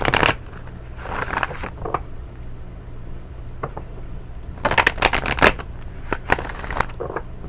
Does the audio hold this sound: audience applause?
no